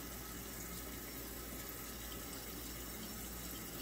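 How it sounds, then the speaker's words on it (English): A mead fermentation airlock being filled with water and shaken back and forth gives a steady, close, continuous watery wash with no pauses and no voices. "you just gotta kind of fill it up with water and then shake it back and forth"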